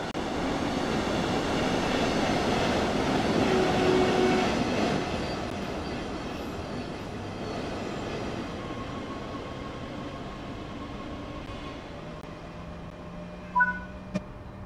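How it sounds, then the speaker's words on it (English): Electric train departing in the Train Sim World 3 video game on the Rhein-Ruhr Osten route, a steady rolling rumble with rising motor hum, faint wheel squeal and a couple of short clicks near the end. "This train is now ready to depart."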